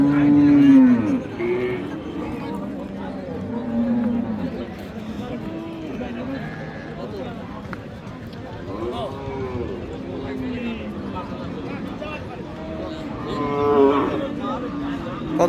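Cattle low repeatedly at an outdoor livestock market, several drawn-out moos rising over a steady crowd murmur and nearby talk, with traders calling prices throughout.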